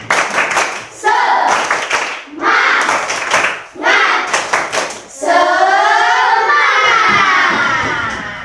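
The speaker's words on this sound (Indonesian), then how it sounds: "Tepuk semangat!" A classroom of children performs the rhythmic 'tepuk semangat' spirit clap, bursts of group clapping in a patterned beat alternating with chanted shouts, ending in a long collective cheer, loud and close.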